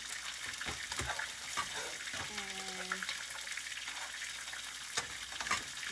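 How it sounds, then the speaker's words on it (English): Halved baby carrots cook in melted butter in a pan, a steady soft sizzle throughout with a few faint clinks and a brief tonal hum partway through. "So now I'm gonna add them to the melted butter."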